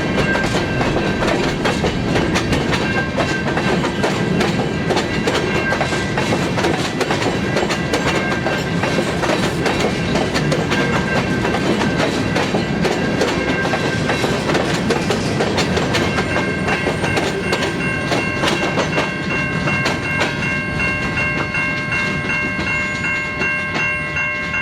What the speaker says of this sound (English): Here we observed the train entering Great Lake Steel to begin switching